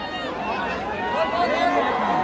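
A dense, loud crowd cheers and chatters after a bullock cart race win at an open ground on 26 January, with many overlapping voices in a continuous jubilant roar.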